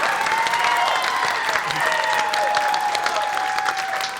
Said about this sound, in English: Everyone applauds a third time, this time a little too hard